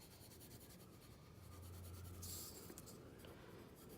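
Soft, steady scratching of a colored pencil or crayon across a sheet of paper, continuous and close but quiet, with no voices over it.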